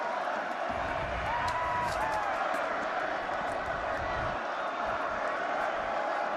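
A college football stadium crowd roars in a steady, distant wash of cheering during a Colorado versus Texas Tech game, with commentators talking over it.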